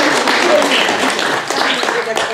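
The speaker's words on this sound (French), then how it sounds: "Tu peux venir, hein, Laurence, on va l'applaudir." An audience at a radio station inauguration claps for a woman being called up, a busy wash of hand claps mixed with voices talking over it, fairly loud and close.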